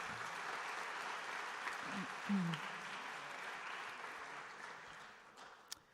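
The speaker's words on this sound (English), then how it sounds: "I'd like to have a round of applause for all those amazing folks" Steady applause from an audience at an awards presentation, moderately distant and fairly even, with a brief low murmur partway through and a sharp click near the end.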